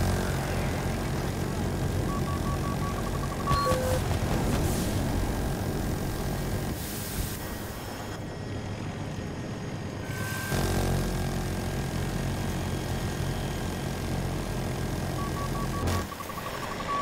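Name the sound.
jet aircraft flying overhead in video game Battlefield 2042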